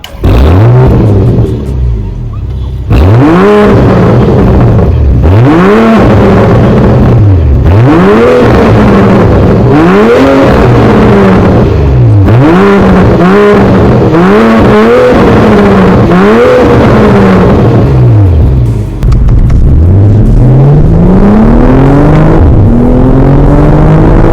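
A BMW M440i engine revs hard again and again, loud and close, with rising and falling whine and sharp exhaust pops and crackles between throttle blips.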